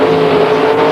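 Race cars roar loud and steady on a dry dirt speedway track at I-80 Speedway in Nebraska, one continuous close engine drone with no break.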